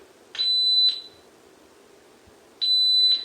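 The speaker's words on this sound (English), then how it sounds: "I'm going to show you guys what it looks like to do a 2-second shot timer." An electronic shot timer set to a two-second par time during dry fire firearm practice gives two sharp, loud beeps, one to start and a second about two seconds later, with quiet room tone between.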